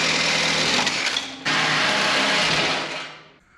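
Sawzall reciprocating saw cutting through the body of a Jeep drag-race funny car, a loud, buzzing, rapid chatter that pauses briefly, resumes, then winds down and stops.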